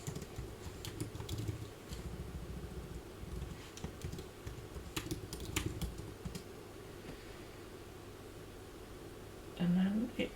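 Soft typing on a computer keyboard, with a run of light, irregular key taps near the start and scattered clicks later while a person talks quietly over it.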